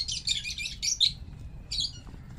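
Crows near pigeons give a few harsh, scratchy caws in quick bursts, then a short pause and one more call. The calls are fairly close, heard over a low outdoor rumble, with no voices.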